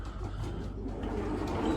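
Breeding pigeons coo softly in a loft during pairing season, a faint low murmuring under a quiet hum of background noise.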